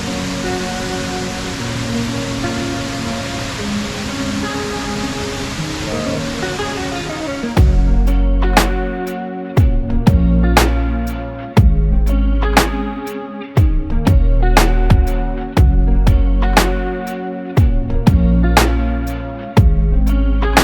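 Rushing water near Noccalula Falls in Alabama, a dense steady roar for the first several seconds, then the scene breaks into louder bursts separated by sharp clicks and brief gaps.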